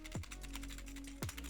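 Keys pressed on a cheap Wish gaming keyboard, a rapid run of close, clicky taps with two heavier thumps at the start and near the end, loud and alone with no talk.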